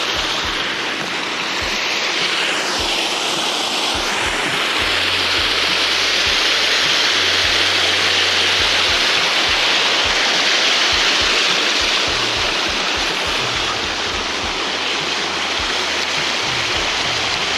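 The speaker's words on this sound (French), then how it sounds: "la partie qui alimente une rivière qui coule en permanence à côté de l'étang" A river beside a fishing pond rushes continuously in a dense, steady wash of flowing water, close and loud throughout, with a faint low hum underneath.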